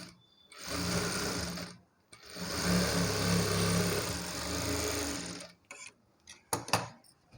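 A sewing machine top-stitching the hem of a blouse runs in two long steady bursts, a close mechanical whir, with a short pause between them and a few clicks and handling sounds at the end.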